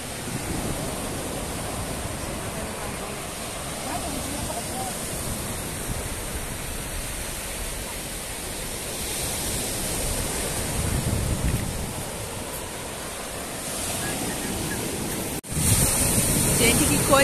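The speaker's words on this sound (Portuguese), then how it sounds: "Gente, que coisa mais linda esse marzão." Sea waves wash onto the beach at Penha in a steady, broad rush of surf that holds at an even level throughout, with wind noise on the microphone and a slightly louder swell near the end.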